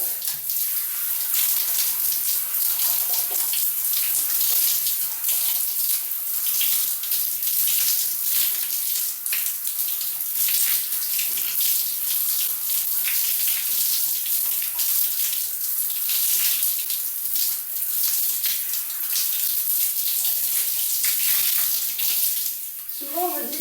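Shower water runs steadily while a face mask is rinsed off, a close, continuous hiss of spray that stays even throughout, with a brief rustle near the end.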